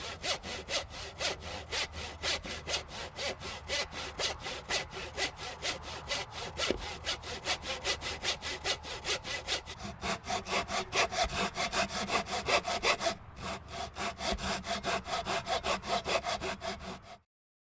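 A handsaw cuts a notch into a wooden boat stem for a flat-bottomed punt, with steady rapid back-and-forth rasping strokes, close and continuous, briefly pausing near the end.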